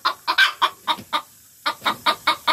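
Hens cluck loudly and close by in their nesting boxes, giving a rapid series of sharp, repeated clucks with a short pause midway.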